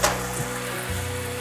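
Sweet potato leaves and white mushrooms stir-fried in a pan, sizzling loudly and continuously, with a brief scrape of stirring near the start and a steady hiss close up.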